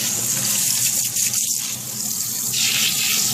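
Tap water runs steadily into a sink as a U-part wig is rinsed under it, a close, loud continuous splash that shifts in tone as the hair moves through the stream.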